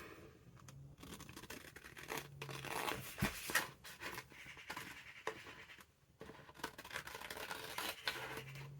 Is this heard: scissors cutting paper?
yes